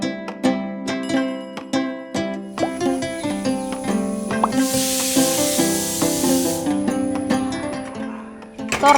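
Steam hisses in a loud burst from a pressure cooker on the stove, where washed vegetables cook in a glass of water, rising over steady tonal background sounds before fading back.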